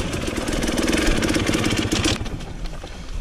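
A KTM 690 motorcycle engine runs steadily at close range on a creek bed trail, a loud continuous idle-to-mid-rev drone with no talking.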